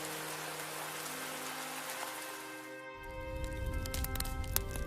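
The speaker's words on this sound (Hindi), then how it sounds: "जी बारिश तो रात से हो रही है।" Steady rain falls over a village after a night of downpour, a dense continuous patter on surfaces that grows rougher and heavier partway through, with no voices.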